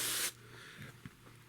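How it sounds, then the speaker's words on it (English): One short, close burst of spray hisses onto worm bait bedding, then cuts off into near quiet with faint handling noises. "Now I'm going to just spray this down because I want to make sure that it's wet"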